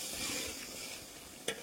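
Food sizzling and frying in a pot while it is stirred, with a steady close hiss and soft scraping throughout and one sharp clink near the end.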